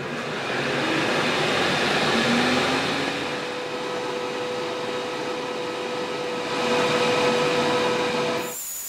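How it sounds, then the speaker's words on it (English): An air purifier runs beside an xTool F1 Ultra fiber and diode laser engraving a stainless steel pie server in a shop, giving a steady, close whooshing hum with a faint constant tone that cuts off abruptly near the end. "Turn on the air purifier."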